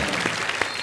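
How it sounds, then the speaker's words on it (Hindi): Brief burst of studio audience applause on a comedy show, a dense even patter of clapping throughout. "उसके लिए जोरदार तालियां"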